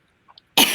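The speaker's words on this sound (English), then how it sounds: "Sorry, I started coughing." A single person gives one short, loud, close cough after a moment of near silence and a couple of faint small noises.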